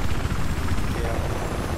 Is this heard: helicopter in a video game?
yes